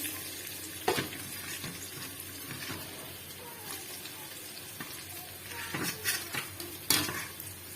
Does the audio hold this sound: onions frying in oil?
yes